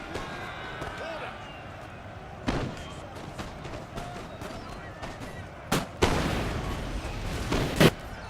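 Cannon shots and gunfire in a video game battle, with infantry under artillery and mortar bombardment: scattered booming blasts at intervals, including a heavier cluster near the end, over a steady rumbling battle din.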